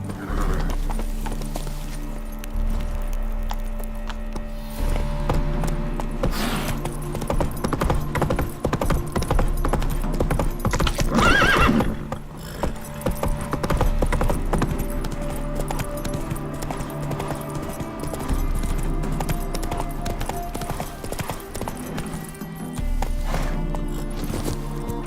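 Roach the horse in The Witcher 3 gallops with rapid, rhythmic hoofbeats, close and steady throughout, over a low background hum, with a brief louder burst midway.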